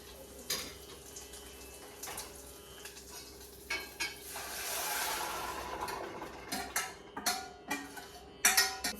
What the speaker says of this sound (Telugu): నేను ఇప్పుడు పోపులో నేను ఇందాక ఉడికించుకున్న పప్పు ఇంకా దాంట్లో ఉన్న ముక్కలు కలిపి ఒకటేసారి వేసేసుకుంటున్నాను